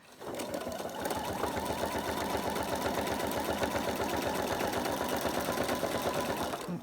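A sewing machine stitches a beach hut applique picture, running in a fast, steady stream of rhythmic needle pulses that holds loud and close for nearly seven seconds with no talking.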